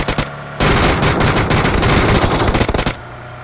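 Sustained automatic gunfire in the mobile battle royale game BGMI, a loud continuous burst of rapid shots lasting about two and a half seconds, with brief quieter game ambience before and after.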